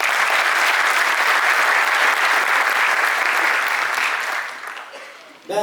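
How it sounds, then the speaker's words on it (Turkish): An audience at an education awards ceremony in Şanlıurfa applauds in a loud, even wash of clapping that holds steady and then fades toward the end, with a brief voice cutting in at the close. "Onları bir kez daha alkışlıyoruz"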